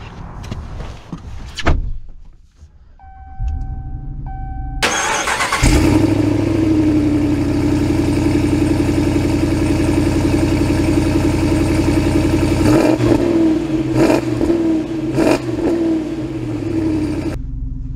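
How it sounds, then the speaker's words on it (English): Gas-powered 2023 Ram 2500 Rebel pickup with a 6.4L Hemi V8 setting off: door and cabin handling noises, then the engine starts and holds a loud, steady rumble with a few revving swells, no talk. "we are setting off in the gas-powered Rebel."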